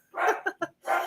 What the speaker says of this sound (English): So I'm going to have to continue on with the dog barking in the back.